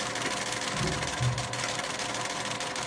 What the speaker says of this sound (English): I'm going to carefully line them up on the 1/4 inch seam allowance and sew my way down the seam